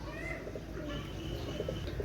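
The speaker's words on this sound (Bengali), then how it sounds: "একজোড়া গলায় লাল কবুতর" Continuous low cooing from several red-necked pigeons, overlapping in a steady murmur with soft rustling around them.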